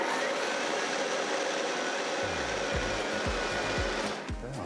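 A blender purées potatoes into a light, foamy cream, whirring as a steady, close motor drone with a brief lower pulsing toward the end.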